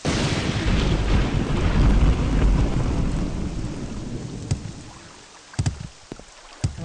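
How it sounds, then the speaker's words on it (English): Thunder and rain in the video game Morrowind: a heavy, loud rumble with steady rain that slowly fades, followed by a few sharp crackles and thumps near the end. "Oh, thunder."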